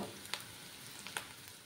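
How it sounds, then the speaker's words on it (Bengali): Onions shallow-frying in a pan for a coconut milk fish curry, a steady soft sizzle with a couple of brief scraping or stirring clicks, fairly quiet and close, no voices. "পেঁয়াজটাকে একটু লাল করে ভেজে নেব।"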